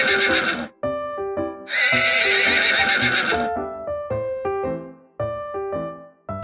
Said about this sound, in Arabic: ده حصان قزم، حجمه كده ومش بيكبر، شكله كيوت